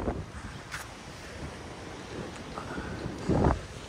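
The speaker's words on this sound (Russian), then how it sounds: "море волнуется" Stormy sea waves at Adler's Olympic embankment wash and rumble under gusting wind buffeting the microphone, a fairly quiet, continuous outdoor wash with a louder surge near the end.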